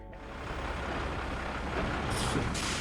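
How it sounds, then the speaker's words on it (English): A derelict tanker truck rumbles steadily at close range, with a sharp air-brake hiss bursting out near the end. "a menacing machine in the form of a derelict tanker"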